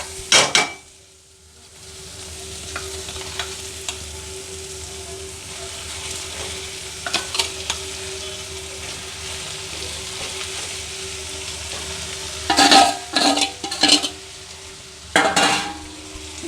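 Raw prawns hitting hot oil with softened chopped onions in a pan, a steady close sizzle running throughout, broken by sharp clinks and scrapes of a metal spoon stirring against the pan.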